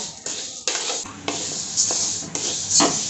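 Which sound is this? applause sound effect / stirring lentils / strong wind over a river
stirring lentils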